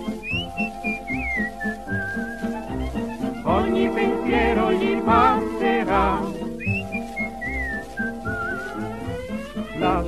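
A person whistles a lilting Italian waltz melody, the tune carried by a bright, wavering whistle over accompanying music, loud and continuous throughout with a brief sung line.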